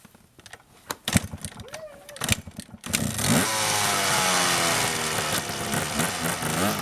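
A Kawasaki KDX200 two-stroke dirt bike engine idles and burbles steadily after a few seconds of clunky handling sounds, fairly close and continuous to the end.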